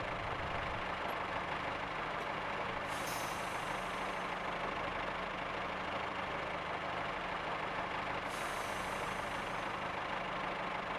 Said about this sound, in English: Full service brake.